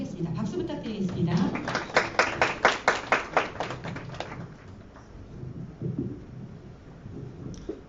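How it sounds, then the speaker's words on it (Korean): Audience at a social enterprise forum claps in a brief burst of sharp, regular hand claps, near and fairly loud, fading out to quiet room tone with some talk around it. "박수 부탁드리겠습니다"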